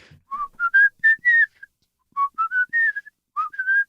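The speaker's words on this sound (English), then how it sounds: "that last whistle was great" A person whistles a short melodic phrase of quick rising and falling notes, repeated three times with brief pauses, clear and close with no other sound.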